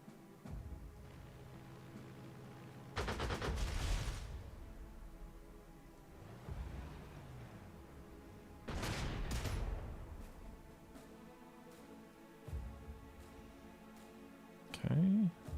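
Bursts of aircraft strafing gunfire from the World War II strategy game Panzer Corps 2, several loud rattling volleys a few seconds apart over a quiet background.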